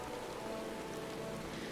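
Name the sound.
rain falling in the video game Final Fantasy XIV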